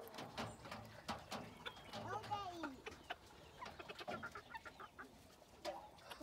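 Quiet clucking from nearby hens comes in short bursts, with soft speech mixed in among the low murmuring calls.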